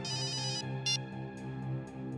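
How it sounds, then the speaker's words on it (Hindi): A short electronic mobile phone ringtone chirps in a few repeated bursts over a steady low hum, fairly quiet and close. "सर मेरी वाइफ का फोन है सर।"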